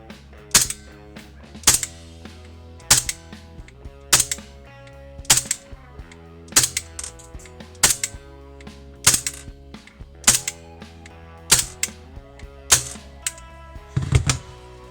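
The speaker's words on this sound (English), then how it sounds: "Around about 10 shots, and as you can see it's about as consistent as you're going to get from a gas blowback pistol." A WE Walther P99 airsoft gas blowback pistol runs on Vorsk V6 gas with .25 BBs and fires about ten sharp, snappy shots at a steady, evenly spaced rhythm, each crack close and loud with a short mechanical clack of the slide.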